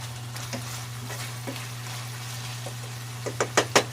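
Bagoong alamang shrimp paste frying in a pan, a steady low sizzle with a few sharp stirring clicks and scrapes growing louder toward the end, no talking.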